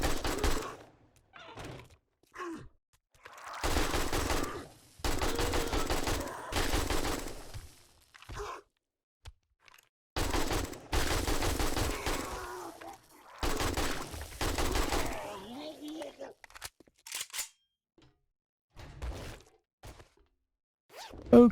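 Gunfire from shooting enemies in the video game Resident Evil, arriving as separate loud bursts of rapid shots broken up by silent gaps.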